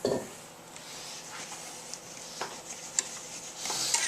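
A thickening roux-like mixture stirred in a pot for chicken and wild rice soup, soft scraping and faint sizzling with a few light utensil clinks against the pan, close and quiet.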